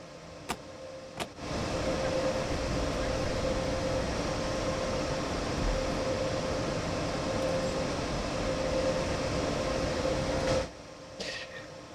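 Rapid transit train doors operate on the Hamburg–Lübeck main line in Train Sim World 4: a couple of sharp clicks, then a steady mechanical hum with a faint tone for about nine seconds, ending abruptly with a thud and a click.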